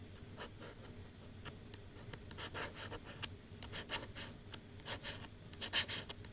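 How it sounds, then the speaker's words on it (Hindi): A pencil lettering on paper for an engineering drawing gives soft, close scratching strokes in short irregular bursts over a faint steady background hum. "उसके बाद में लिखना है"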